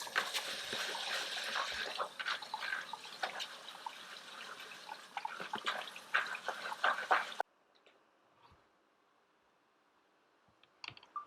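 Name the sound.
rinsing jasmine rice in water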